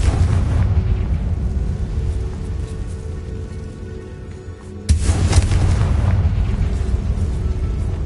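A Confringo blasting spell goes off in Hogwarts Legacy with a sudden loud burst near the midpoint, set over a continuous rumbling background.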